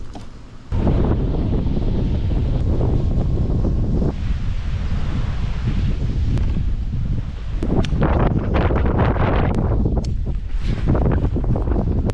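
Strong west-southwest wind buffets the microphone out on open water near dense weed mats, a loud, continuous roar with gusty rustling swells and brief crackling bursts, no talk.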